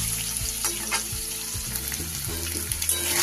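Paneer frying in a kadai gives a steady, close, hissing sizzle with occasional low knocks of a utensil stirring the pan, continuous throughout with no talking.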